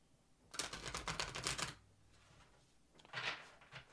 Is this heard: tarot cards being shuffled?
yes